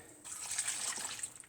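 A glass of water pouring into a pot in one short, steady, hissing stream, close and fairly soft.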